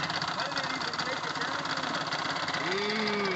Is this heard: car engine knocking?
yes